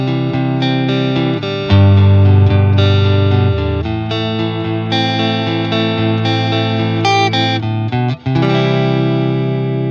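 Guitar plays the picked intro of a song, a sustained, ringing arpeggiated figure through an effects-laden tone, loud and close with no talking.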